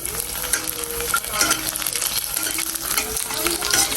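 Food sizzles loudly in a pan while being stirred, the spatula scraping and clinking in a repeating rhythm over a constant close frying hiss, with no talking.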